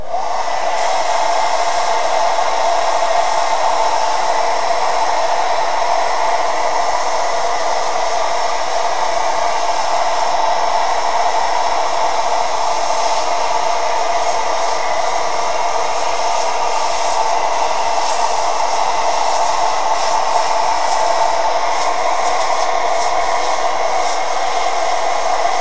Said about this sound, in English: Using the blow dryer, it'll dry the paint.